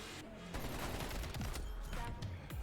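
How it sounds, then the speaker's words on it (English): Gunfire from the video game Call of Duty: Black Ops Cold War on PC rattles in dense, continuous bursts, like a steady fusillade that fills the whole clip with fairly even loudness. "I see some bullets flying my way"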